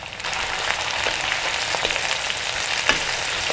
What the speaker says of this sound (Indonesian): Ini saya masukkan dulu bawang prei ya